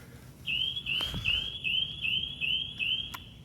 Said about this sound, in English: You can hear the dock lifeguard alarming.